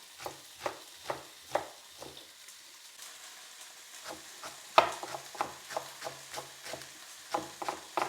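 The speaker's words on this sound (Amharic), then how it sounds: "በጎን ደግሞ ስጋውን እየጠበስን እያገለባበጥን እንገለብጠዋለን" Meat frying in a pan and being flipped over, heard as a series of distinct scraping, stirring strokes at a steady rhythm over a quiet background, with one sharper clack midway.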